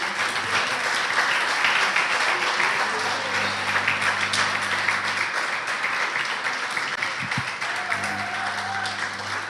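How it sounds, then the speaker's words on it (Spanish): Steady applause from a church congregation, a dense wash of clapping that holds throughout at moderate loudness with no voices over it. "arranquemos con un aplauso para los que están hoy acá"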